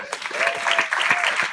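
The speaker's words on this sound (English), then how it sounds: "Guys, give Deepak a round of applause." A short burst of audience applause at a business launch meeting, moderately loud crowd clapping with a voice talking over it.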